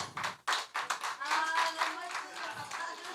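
A comedy show audience claps in scattered fashion, a few sharp separate claps at first and then a thin, uneven patter of hands, with some voices underneath.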